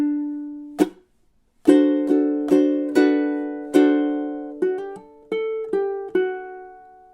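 Ukulele playing measures 15 and 16 of Jimmy Buffett's Margaritaville: one plucked note, a short gap, then a string of bright picked notes and strummed chords, each ringing out and decaying, close and alone.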